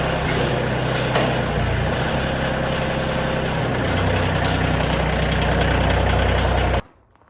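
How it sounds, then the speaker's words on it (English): A 1970 Gilson garden tractor, sold by Montgomery Ward, runs loud and close just after a cold start, a steady rough idle with a knocking pulse throughout that cuts off abruptly near the end. "this is a 1970 Gilson garden tractor"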